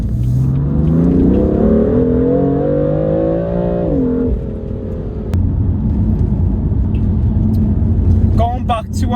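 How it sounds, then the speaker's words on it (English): A stage 1 tuned BMW M3, around 490 bhp, revs hard with its engine pitch climbing steadily before dropping off, followed by a lower rumbling exhaust, loud and close, with a voice partly over it. "I want to hear this exhaust 24/7. I want to hear it popping and banging."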